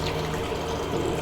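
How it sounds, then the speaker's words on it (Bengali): Chicken stock poured slowly into a soup pot of shallow-fried vegetables for creamy chicken mushroom soup, a continuous full watery gush and bubbling, loud and close, with no talking. "এই স্টকটা আমরা আস্তে করে ঢেলে দেবো"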